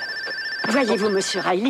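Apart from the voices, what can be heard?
telephone ringing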